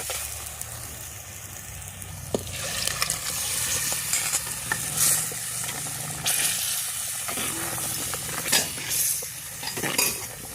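Mutton stirred into a masala fried in oil, cooked over a wood-fired stove: steady sizzling and hissing with repeated scraping and clinking of a spoon against the pot, continuous and close, with no talking.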